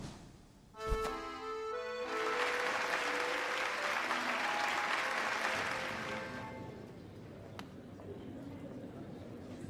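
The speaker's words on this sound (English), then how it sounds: "Hear how the crowd adores you." A crowd in the video game Hollow Knight breaks into sustained applause and cheering, swelling after a brief musical tone and continuing loudly for several seconds before fading.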